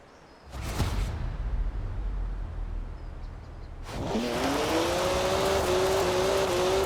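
A BMW 1M in the racing video game Forza Horizon 4: a short whoosh and engine burst, a brief pause on a steady engine note, then a loud rising rev as the car accelerates hard, its engine tone climbing steadily.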